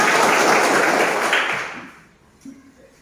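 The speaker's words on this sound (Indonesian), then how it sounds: "Oke, tepuk tangan." A classroom of students claps hands together in a brief dense burst of applause for about a second and a half, then it dies away into a few faint taps.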